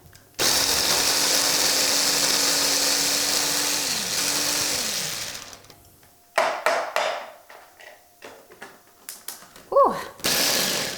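A food processor whirs loudly for about five seconds, blending herbs and spices for lamb shawarma, its motor pitch dropping as it stops, followed by clattering and handling noises and someone talking.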